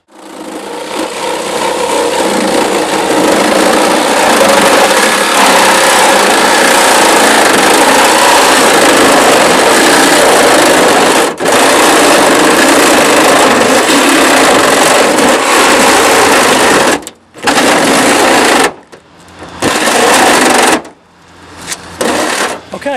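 A reciprocating saw fitted with a Lenox demolition blade buzzes loudly and continuously as it cuts through a car's C post during extrication training, then stops and restarts in short bursts near the end.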